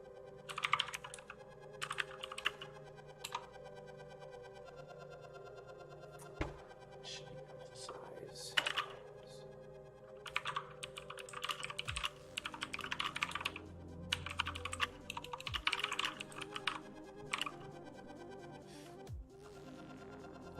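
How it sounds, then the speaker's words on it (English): Clicky mechanical keyboard keys typed in quick irregular bursts with short pauses between runs, close and fairly quiet, no talking. "I do hope you enjoy the excellent clicking of my mechanical keyboard"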